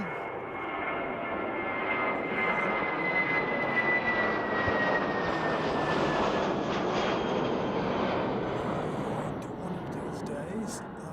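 A fixed-wing aircraft passes overhead at a viewing mound on Harewood Road in Christchurch. Its engine roar swells gradually, holds, then fades away, with voices faintly present beneath it.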